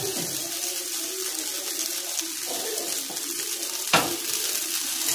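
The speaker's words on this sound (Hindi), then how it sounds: "इसी तरीके से हम इसे उलट पलट के गोल्डन ब्राउन होने तक इसे हम अच्छे से टिक्की को सेक लेंगे" Aloo tikki frying in ghee on a tawa over low flame, giving a steady soft sizzle throughout with a brief clatter near the end as the patties are turned; no talking.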